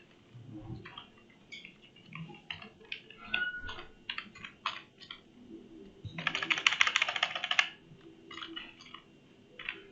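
Keys clatter on a computer keyboard as a username and password are entered: bursts of close tapping separated by short pauses, then a dense rapid flurry of keystrokes near the end, with no voices.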